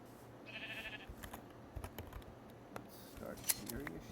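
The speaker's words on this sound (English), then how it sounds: "Shearing a sheep." A sheep is sheared in a house-flipping video game, with a brief bleat and short game effects over soft keyboard tapping and faint background talk.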